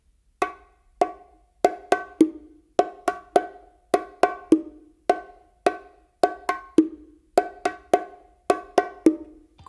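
Bongos playing a pattern with the hit after the third open tone on the macho, sharp close hand strikes in a repeating syncopated figure with brief ringing tones, heard alone.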